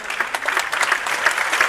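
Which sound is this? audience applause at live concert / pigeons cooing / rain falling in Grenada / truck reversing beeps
audience applause at live concert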